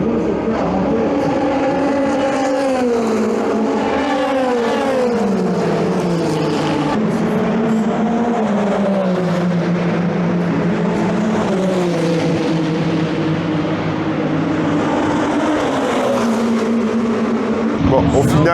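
Race cars at the 24 Hours of Le Mans 2025 seen from the Raccordement corner, engines droning and rising and falling in pitch as they pass one after another, loud and continuous, with voices talking over them.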